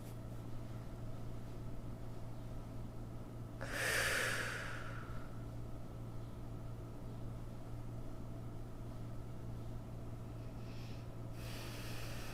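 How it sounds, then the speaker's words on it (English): A single deep, audible breath rushes in and out during a kundalini yoga session, heard alone over a steady low hum, with a fainter breath near the end. "Breathing in and out through that line."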